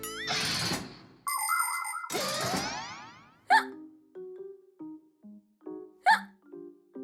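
A cartoon character from The Fixies hiccups, a string of short springy comic hiccups spaced by pauses, following a burst of louder bouncy cartoon effects at the start.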